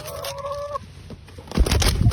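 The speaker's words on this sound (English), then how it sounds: "I accidentally shut a chicken in my car." A hen clucks inside a car, giving a short drawn-out vocal call followed by a quieter pause, then a burst of louder, closer rustling and fluttering movement.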